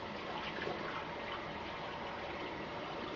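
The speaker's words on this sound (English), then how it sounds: "I'm going to take the puck and rinse it off" Shaving soap puck held under running tap water, a steady close gush of water with no pauses.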